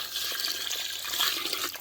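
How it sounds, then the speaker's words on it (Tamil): Water pours steadily into a cooking pot of rice for chicken biryani, a short, even splashing rush heard close by with no talk. "இதுக்கு நம்ம தண்ணி ஊற்றிக்கலாம்."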